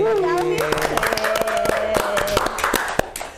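Audience clapping at a talk show with a fashion designer from Wonosobo, a short burst of applause that starts under a voice and tonal sound, then tapers off into a few scattered claps.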